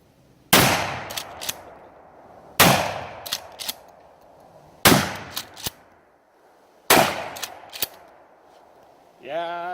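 Four loud, sharp blasts from a TAC-14 shotgun firing buckshot, spaced about two seconds apart, each with a short echoing decay and a couple of quick mechanical clacks, then a brief whistled or squeaky tone at the end.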